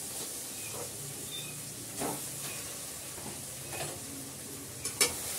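Marinated chicken hits a hot pan with a soft, steady sizzle, broken by a few scraping stirs and clinks of a utensil against the pan; no voices.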